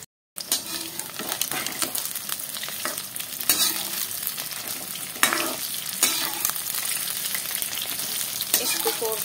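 Soybean pakoras fry in hot oil in a kadai, a steady close sizzle broken by scraping, stirring sounds as the pieces are turned every so often.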